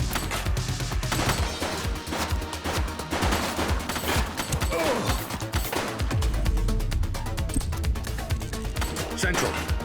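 Rapid bursts of gunfire crackle through a police shootout in The Precinct, dense sharp shots in quick succession over a busy action backdrop, with a shouted voice in the mix.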